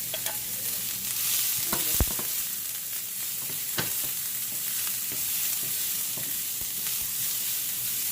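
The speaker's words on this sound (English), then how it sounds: "Keep on stirring until everything looks like it's half cooked, okay?" Herbs and garlic fry in a pot for Jamaican beef patties, a continuous crackling sizzle with scattered spoon clicks and scraping stirs throughout, close and fairly loud with no speech.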